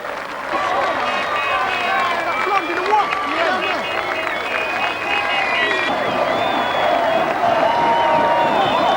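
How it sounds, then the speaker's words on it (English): Large crowds cheer the Swindon Town football team home during an open-top bus parade through the town, a steady roar of cheering and applause with voices heard over it. "An open-top bus ride through the town brought unbelievable scenes as the crowds gathered to cheer their heroes home."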